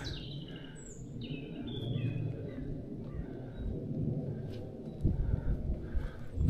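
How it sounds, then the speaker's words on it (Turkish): Birds call and trill in the distance in Belgrad Forest over a low rumbling background, with occasional louder thumps near the end. "Kuş seslerini dinleyin. Doğanın sesi."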